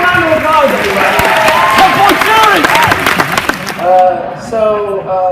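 Studio audience applauding and cheering loudly after a comedy segment on a TV show, a dense sustained wash of clapping mixed with whoops and raised voices that fades out near the end.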